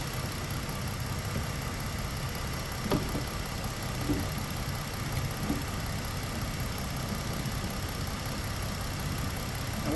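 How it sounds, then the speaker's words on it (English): A car engine idles in a shop after a part is tightened down, a steady low drone with a faint rumble and no voices; the idle sags slightly now and then without stalling. "all of a sudden the idle dipped down really low"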